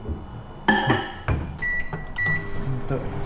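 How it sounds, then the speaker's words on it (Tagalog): A microwave oven is handled in a kitchen. Sharp beeps from the keypad and clunks from the door or buttons come over a low running hum, and a person talks nearby. "Sabay, microwave."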